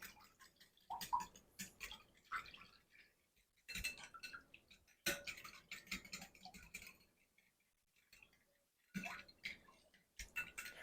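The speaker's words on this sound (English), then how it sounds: "We're just going to sort of whisk that and get it sort of combined a little bit there first." Cream of celery and chicken broth soups being whisked in a bowl for a pork chop and rice casserole: bursts of quick clinking and scraping strokes separated by short pauses, close and clear, no talking.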